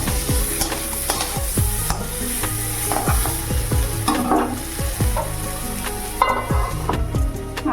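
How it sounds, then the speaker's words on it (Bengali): Cauliflower frying in a pan gives a steady, close sizzle, punctuated by repeated scraping clinks of a stirring utensil, with no talking. "ভাজা চাপিয়ে দিয়েছি।"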